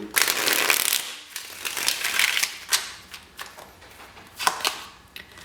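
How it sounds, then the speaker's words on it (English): Tarot cards are shuffled by hand, giving a run of crisp papery riffles and flutters with uneven bursts and pauses, close and fairly loud with no talk. "One more shuffle."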